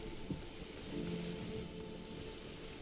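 Steady rain in the video game Disco Elysium falls as a dense, hissing wash with a low rumbling undertone. Continuous and moderately quiet, with no voices.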